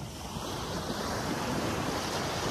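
Sea waves along Talisay Boulevard in San Jose, Camarines Sur, a continuous broad roar of surf mixed with strong wind buffeting the microphone, loud and steady with no voices.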